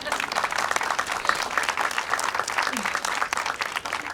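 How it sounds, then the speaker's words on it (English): An audience claps at an early childhood center ribbon-cutting ceremony for an Illinois school district, a steady wash of applause that holds for the whole stretch. "clap your hands"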